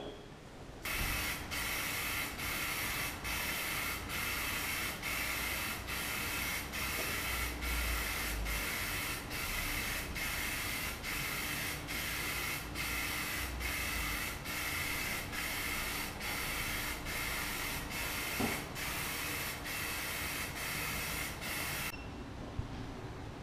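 A spray can of paint hisses continuously for about twenty seconds while coating homemade DIY speakers, close and steady, with a faint rhythmic mechanical ticking underneath.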